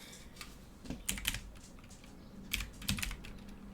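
Keys clatter on a computer keyboard in bursts of quick clicks with short pauses between them, close and fairly quiet, with no voices.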